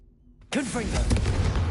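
Confringo fire spell exploding in the Hogwarts Legacy video game: a quiet lead-in, then a sudden loud blast with a ringing, crackling tail that keeps rumbling to the end.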